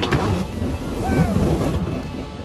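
Jet ski running across open water with a steady engine drone mixed with rushing water, wave wash and wind buffeting the microphone, continuous and fairly loud throughout.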